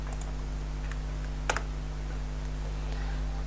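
Computer keyboard keys tapped sparsely for a copy-paste, a few faint clicks and one louder keystroke over a steady electrical hum, no talking.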